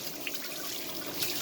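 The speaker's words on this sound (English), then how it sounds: "Water," Water runs steadily from a bathroom tap in a church men's room, a soft hissing splash with a few small drips, with no voices over it.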